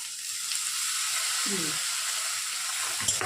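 Chopped green chili and tomato frying in a pan, a steady even hiss of oil that holds unbroken, with a brief faint voice in the background.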